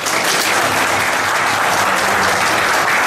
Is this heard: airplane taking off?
no